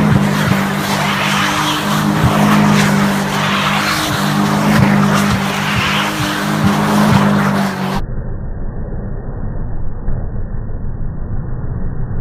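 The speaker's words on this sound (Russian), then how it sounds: "закручиваем руль до упора, нажимаем газ в пол и не отпускаем его, пока не закончим упражнение" A car doing a donut at full throttle with the wheel locked, the engine roaring steadily while the tires squeal and skid continuously, loud and close, with no talk.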